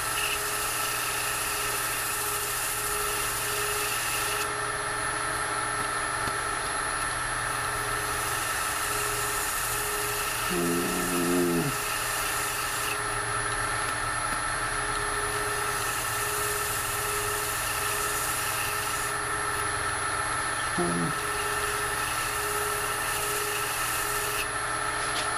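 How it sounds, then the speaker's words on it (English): Fine 400 grit sandpaper rubs steadily over a finished wooden ring box, a continuous, soft, close scratchy hiss with no voices. "I'm going to start out with some 400 grit sandpaper and see what that does"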